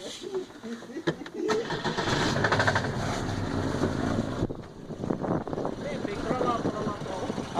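A Chevette car engine with a strange noise cranks and starts, then runs with a loud, rough, steady rumble close by, with wind buffeting the microphone and people talking over it.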